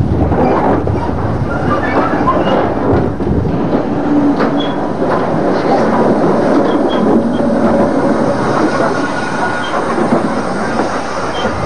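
A steam tank locomotive, Ginty 0-6-0 tank engine number 47590, rumbles steadily and loudly with a continuous rolling rail clatter and wheel noise throughout.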